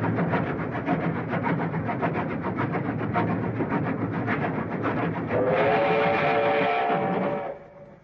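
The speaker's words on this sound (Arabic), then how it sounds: "أسرع، لقد وصل القطار." A train rumbles loudly and steadily nearby, then a high metallic brake squeal rises near the end as it slows to a stop.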